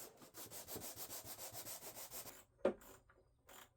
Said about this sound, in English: I came back with a sanding block just to make sure there wasn't any glue residue on the wood